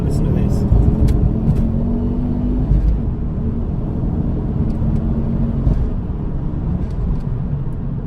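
A Ford Focus RS Mk2 hatchback engine drones steadily from inside the cabin with a low rumble, a rising whine, and some light clicks over it.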